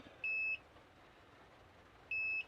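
An electronic device, a PlayStation 5 damaged by a lightning strike, gives two short identical high beeps about two seconds apart over a low background hiss.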